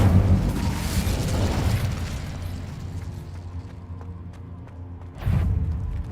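The Incendio fire spell is cast in the video game Hogwarts Legacy: a loud, booming burst that rumbles and fades over several seconds, then a second sharp blast near the end.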